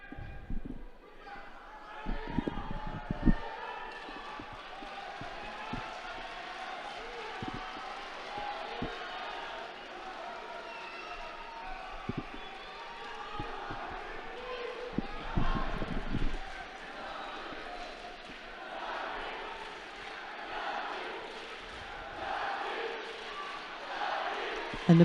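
A home crowd at a European Judo Championships bout in Sofia cheers and chants in a broad, moderately loud roar, with sharp thumps and slaps from the mat and a commentator talking over it.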